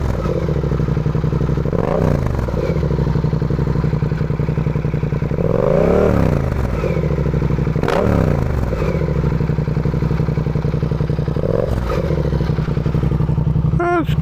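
A 2024 Suzuki GSX 8R motorcycle idles steadily up close, blipped into several short revs that rise and fall at roughly two-to-four-second intervals over a constant engine drone.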